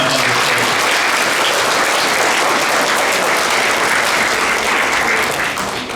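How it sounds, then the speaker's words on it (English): Sustained, loud applause from an audience at an Eagle Scout Court of Honor ceremony, a dense steady wash of clapping lasting the whole stretch without a break. "let's give another round of applause to this fine young man"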